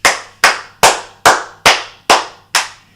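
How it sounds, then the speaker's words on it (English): Seven crisp hand claps in an even, steady rhythm, loud and close, with no voices. "A round of applause"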